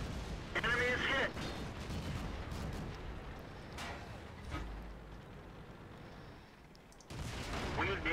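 Tank cannon shots boom in a World of Tanks battle, with a few muffled blasts and rumbling impacts beneath a radio-style voice and faint background drone, at moderate distance.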